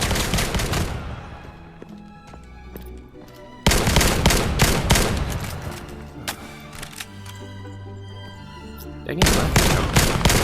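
Gunfire in the VR shooting game Vail on Meta Quest 2 comes in loud, sharp bursts and rapid volleys, with some single shots between them, close and dense throughout. A player briefly mutters once.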